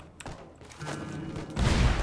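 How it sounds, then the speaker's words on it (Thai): A grenade explodes in the zombie video game Pandemic Express: a low booming burst near the end, after a few muffled thumps and soft game noise. "ใครมันเอา ระเบิดมิมิกมา"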